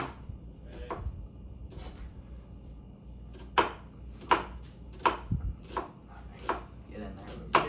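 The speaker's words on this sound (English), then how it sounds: "we're already halfway through chopping the onion" A knife chops through an onion on a cutting board in a home kitchen, giving irregular crisp knocks that grow louder and more regular toward the end, with faint talk in the background.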